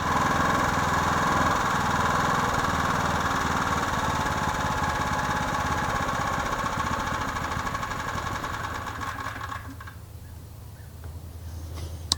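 A gasoline pressure washer engine drones steadily at a constant pitch, then runs out of fuel, sputters and dies out near the end, leaving near quiet.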